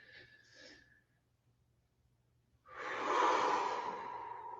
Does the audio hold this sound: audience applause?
no